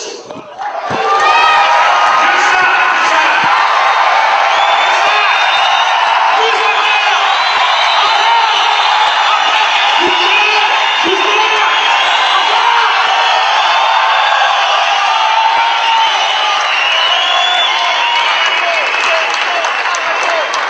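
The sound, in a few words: audience applause and cheering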